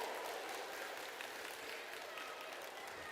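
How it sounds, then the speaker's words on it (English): Steady, dense applause from an audience at a giant pumpkin weigh-off, heard from some distance as a continuous wash of clapping with no talk over it. "Give them a nice round of applause."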